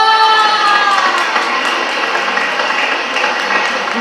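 A recorded audience claps and cheers at a magic show for a company's 50th anniversary, a dense, loud, continuous wash of applause and crowd noise that fades slightly toward the end.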